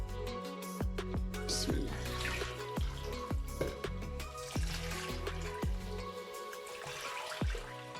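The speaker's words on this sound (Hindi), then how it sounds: "ये चिकन हमने फ्राई कर लिया। अब हम इसमें ऐड करेंगे पानी" Water being poured into a pot of fried chicken to start a soup, a steady splashing stream with scattered clinks and drips, close and continuous.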